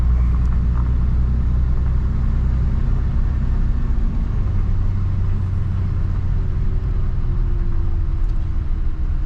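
A heavy Ram 3500 pickup truck drives along the road, a steady low engine rumble and tire roar filling the cabin continuously, close and fairly loud, with no talking.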